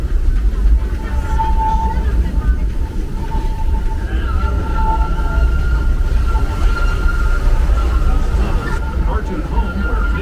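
Disneyland Railroad steam train rolling into Toontown Depot, a steady loud rumble of wheels and carriages with a drawn-out whistle-like tone, under park crowd babble and an announcement voice.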